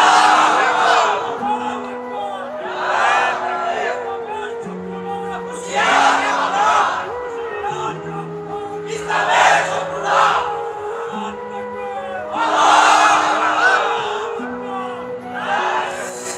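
Crowd at an outdoor religious sermon shouting a takbir chant in repeated surging waves, loud massed voices rising and falling several times over sustained low tones.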